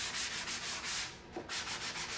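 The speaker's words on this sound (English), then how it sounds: "I'm not really rubbing that hard. You can see it's just kind of sanding away." Steady rhythmic rubbing as chalk paint is sanded off a vintage wooden vanity, hand strokes sweeping back and forth close by with a brief pause midway.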